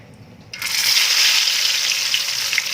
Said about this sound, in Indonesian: Kita goreng dalam minyak yang panas namun menggunakan api yang kecil